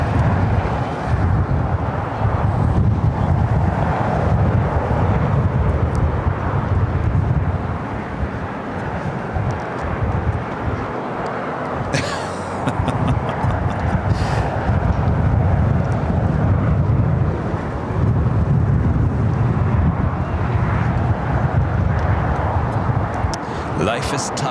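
Boeing 767 arriving from Honolulu at LAX in extreme winds, a sustained low aircraft rumble mixed with gusting wind buffeting the microphone, loud and continuous throughout.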